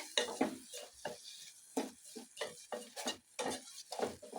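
Ingredients with ginger-garlic paste being stirred and fried in a pan for rice bath, giving a run of close, irregular scraping and clinking strokes over a light sizzle, with no talk.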